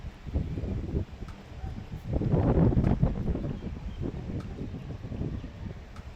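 Steady wind buffeting the microphone outdoors in rainy, windy weather, a continuous low rumble that swells louder in the middle and then eases, with no voices.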